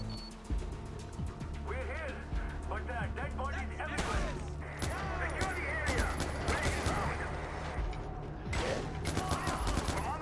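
Gunfire erupts in Far Cry 4, a fusillade of shots including shotgun blasts, busy and fairly loud over several seconds with a voice talking at points.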